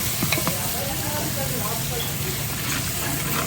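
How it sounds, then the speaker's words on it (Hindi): A spoon stirs daal masala frying in ghee, with a continuous close sizzle and soft scraping strokes against the pot running steadily throughout. "अब थोड़ी देर के लिए इसकी भुनाई करेंगे। चम्मच हिलाते रहेंगे ताकि ये नीचे लग ना जाए।"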